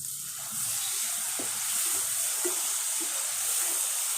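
Spices frying in oil for chicken kosha as tomato paste and green chili go in, giving a steady hiss with soft stirring scrapes and a few light clinks, close and alone.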